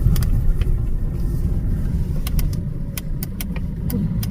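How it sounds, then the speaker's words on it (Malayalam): A vehicle comes along a hillside road near a landslide-damaged area, making a steady, close, low engine rumble throughout with a scattering of sharp clicks and rattles on top. "വണ്ടി വരുന്നു"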